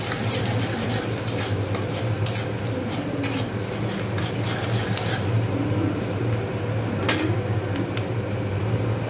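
Chopped garlic and green chilli stirred in a hot pan while making cheese pasta, a steady frying sizzle with intermittent scrapes and clinks of a utensil against the pan, close and continuous.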